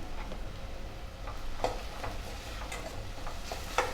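Spices, including turmeric, chili powder and garam masala, sauté quietly in a pan, giving a soft, even sizzle broken by light clicks and scrapes of a spoon.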